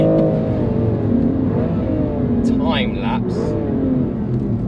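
A BMW M2 drives a sighting lap on a race track, its engine droning steadily from inside the car with a rise in revs midway, under continuous talking.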